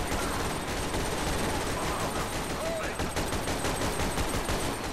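Dense, continuous gunfire from a large NPC battle in Garry's Mod, Starship Troopers arachnids against Modern Warfare Shadow Company soldiers, with rapid automatic bursts filling the whole stretch at steady loudness.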